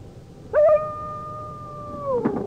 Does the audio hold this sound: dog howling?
yes